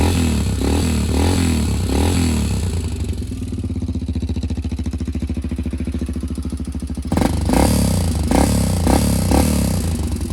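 A dirt bike engine sounds close and loud, first giving a few sputtering revs, then settling into a steady idle, then rising again with repeated throttle blips near the end.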